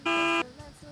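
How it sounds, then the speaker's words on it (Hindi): Truck horn in a truck simulator video game: a single short, flat electronic honk lasting under half a second, loud and alone, followed by quiet. "इसका हॉर्न दिखाऊं मैं आपको,"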